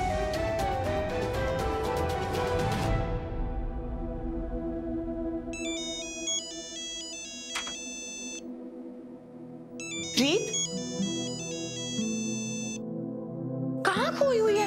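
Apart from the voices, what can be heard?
mobile phone ringtone ringing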